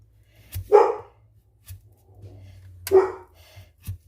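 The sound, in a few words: dog barking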